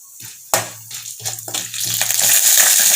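Chana dal tipped by the handful into hot oil in a kadai for mint chutney bursts into a loud, steady sizzle that swells and holds after a sharp start, with light stirring scrapes.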